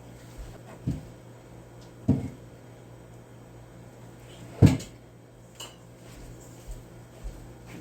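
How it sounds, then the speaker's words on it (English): Kitchen dishes being shifted to get out another bowl: a few separate ceramic clunks and clinks of bowls and cutlery, close and sharp, with a cupboard sound among them and steady kitchen hum between, no talking. "I need to get another bowl"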